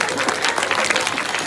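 Brisk applause rises from an audience at a devotional gathering, a dense patter of many hands clapping at once, loud and close, with no one talking.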